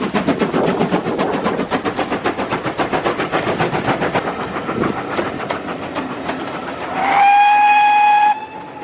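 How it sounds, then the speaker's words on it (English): A steam train passes close by on a Devon line, its wheels clattering in a steady rhythmic clickety-clack before a loud, sustained whistle blows near the end. "We're waiting here for the steam train."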